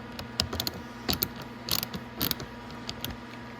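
Bolts are snugged down into the plastic body panels of a Venom 1500w E-Grizzly electric ATV, giving quick ratcheting clicks and small creaks in short bursts, close and fairly quiet.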